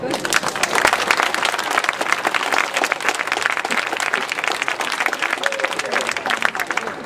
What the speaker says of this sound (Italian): Ma facciamo anche un applauso più caloroso.